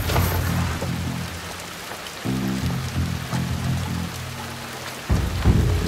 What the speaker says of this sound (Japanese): 雨は気にせんぞ。